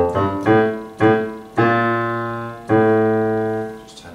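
Piano plays the opening rhythm of a Grade 2 piece: five strong struck chords in a short-short, long, long-long pattern, each ringing and decaying, loud and close with no talk.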